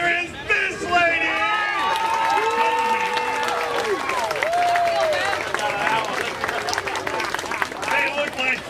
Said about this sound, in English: I need a rousing round of applause.